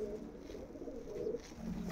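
Pigeons coo softly in a loft, low throaty murmurs overlapping steadily at a quiet, close distance.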